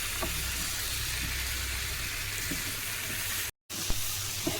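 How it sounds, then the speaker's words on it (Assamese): Tomatoes fry in a pan with ginger and garlic, giving off a close, even sizzling hiss that runs almost unbroken, with a brief silent gap and a few faint clicks near the end. "এয়া মই বিলাহীখিনি দি ভাজি আছোঁ"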